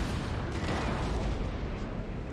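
Cannon fire from artillery batteries in a Napoleonic-era battle in Napoleon: Total War, a steady, dense rumble of booming shots blending into continuous battlefield roar with no clear individual blasts.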